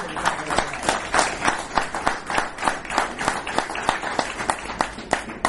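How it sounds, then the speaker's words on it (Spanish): An audience applauds economist Aldo Pignanelli at a Peronist political gathering, a dense, steady round of many hands clapping close by and filling the whole stretch without talk. "Así que un aplauso para él."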